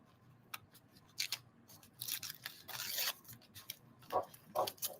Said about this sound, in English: the sound that it's making when I'm ripping this, just how very fragile this paper is